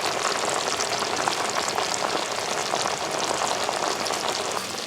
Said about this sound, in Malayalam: നല്ല തിളച്ച് വരുന്നുണ്ട്.